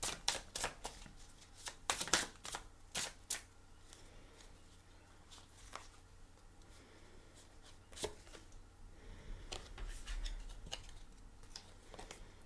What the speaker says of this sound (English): I'm just trying to really shuffle these.